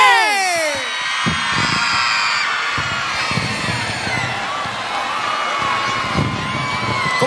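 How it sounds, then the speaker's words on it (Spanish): A large crowd in a bullring cheers, screams and whoops throughout, a dense, continuous roar with high shrieks on top and no single voice standing out. "¡Fuerte el aplauso para M15!"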